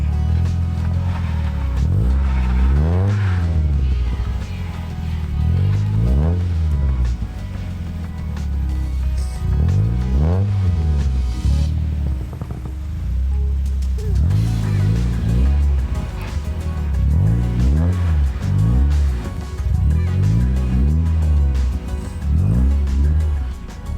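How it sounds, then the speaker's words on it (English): A Mazda Miata buried in deep snow, its engine revving again and again in rising surges as it tries to pull free, loud and close with steady low engine drone between the revs. "Can the Miata get out of its hole?"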